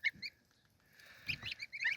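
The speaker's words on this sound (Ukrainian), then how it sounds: "А качки бояться, типу, а гуски ходять собі." Small farmyard geese and goslings give soft, thin honks and peeps in a few short bursts. The calls are close but quiet, with a louder cluster toward the end.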